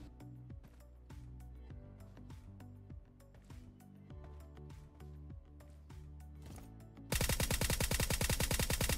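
Gunfire in the video game PUBG Mobile: rapid bursts of automatic shots crackle over music-like rhythmic tones, then a loud, dense stream of fast firing closes the stretch.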